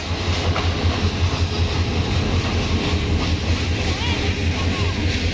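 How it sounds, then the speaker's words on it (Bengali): A train pulling into a railway station at night, a loud low rumble with rhythmic clatter of wheels on rails, people talking nearby throughout. "এদিকে ট্রেন চলে আসছে"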